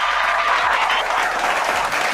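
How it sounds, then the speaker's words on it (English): Steady crowd clapping and cheering for Ron on a Dallas Cowboys talk show, a dense, continuous wash of applause heard up close throughout. "can we clap it up for Ron real quick?"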